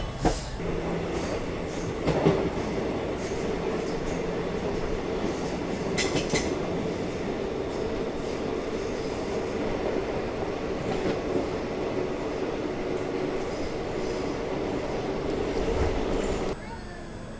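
The Malabar Express rolls into Kazhakuttam station in Kerala, a steady rumble of rail cars with wheel clatter and faint squeals throughout, as someone talks over it.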